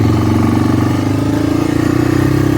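A Honda Big Red three-wheeler with carburetor problems idles close and loud with a steady, slightly uneven throb as it is clicked into first gear.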